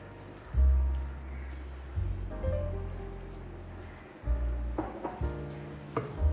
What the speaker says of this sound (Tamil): இதில் வந்து நான் அந்த கீரையை ஆட் பண்ணிக்கிறேன்